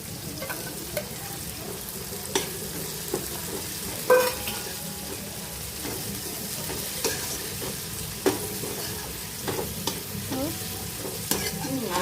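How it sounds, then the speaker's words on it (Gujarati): Finely chopped garlic sautés in hot oil in a pan with a steady low sizzle, broken by frequent clinks and scrapes of a spoon stirring against the metal, close by and without talk. "લસણ હવે થોડી વાર હું હવે સાંકળીશ આને થોડું લસણ સંતળાઈ જાય"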